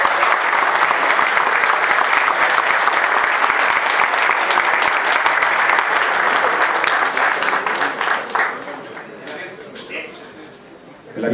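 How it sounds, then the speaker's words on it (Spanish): An audience applauds an award winner at a national static scale-modeling awards ceremony in Mexico, sustained dense clapping for about ten seconds that thins and fades near the end. "Un aplauso para él, por favor."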